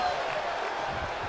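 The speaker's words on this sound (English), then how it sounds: "The sound of this crowd is deafening" Arena crowd in the WWE 2K24 wrestling video game, a dense, steady roar of cheering that fills the whole moment with no pauses, loud and constant, with a faint tone running through it.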